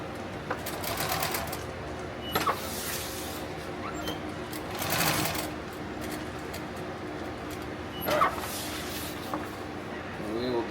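A sewing machine stitches a tactical plate carrier in short mechanical bursts, with quiet pauses between runs and people talking over it.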